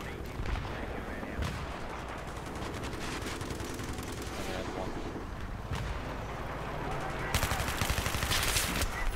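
Battlefield 3 on PC, in the Armored Kill map Armored Shield, fills the scene with dense, continuous gunfire, including machine-gun bursts and heavier booming shots, loud and layered throughout while players talk over the combat.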